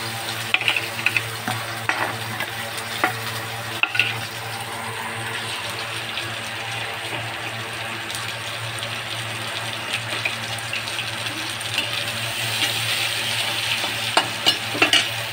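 Chopped onion fries in a cooker for jackfruit curry, making a steady close sizzle with occasional light stirring clicks and spoon taps, no talking.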